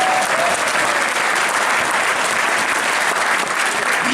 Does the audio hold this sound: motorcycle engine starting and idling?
no